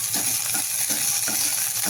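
Ground garlic and fresh coriander paste sizzles steadily in a hot pan, a close, dense crackle with faint rhythmic stirring scrapes and no talking.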